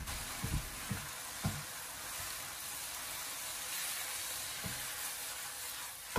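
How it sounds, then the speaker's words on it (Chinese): Blanched bean curd sticks hiss and crackle in a wok over high heat, a steady broad sizzle broken by a few soft thuds and scrapes of tossing, close and without speech. "这时候把焯过水的腐竹放回锅中，然后开大火把它快速的翻炒几下，将它翻炒均匀"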